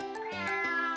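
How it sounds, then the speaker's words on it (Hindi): Several short, close meows from a cat in the video game Poppy Playtime Chapter 3, clear and prominent over about a second with no talking. "कितनी शरारती बिल्ली है।"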